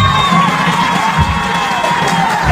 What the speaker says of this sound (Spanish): Señores, no sean tímidos con los aplausos